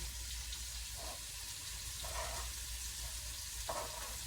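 Chopped vegetables sizzle steadily in a hot pan for an egg scramble, a soft continuous frying hiss with a few faint stirring scrapes.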